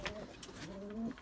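Pigeons cooing in a loft of young birds: a soft, close run of throaty, wavering coos that slide in pitch, with faint rustling behind them.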